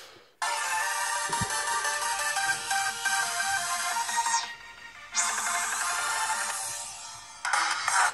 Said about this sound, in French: Allez, on va écouter le son maintenant du haut-parleur